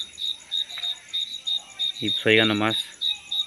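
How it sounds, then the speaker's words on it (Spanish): Crickets chirp at night in La Huasteca Potosina near Axtla de Terrazas, a steady run of evenly spaced high trills pulsing about twice a second, briefly overlapped by a voice. "Pero sí se oye el canto de los grillos"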